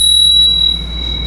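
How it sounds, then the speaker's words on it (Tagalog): A bicycle bell mounted on the right side of a touring bike's handlebar rings once, sharp and bright, then holds a clear, ringing metallic tone that slowly fades over about a second. "Tapos ang nilagay ko dito sa right is yung bell."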